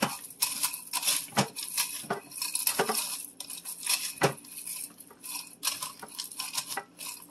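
Cooked pasta being stirred in a metal pot for one-pot cheeseburger macaroni, with a spoon scraping and clinking against the pot in irregular bursts, fairly close and moderate in volume, no talking.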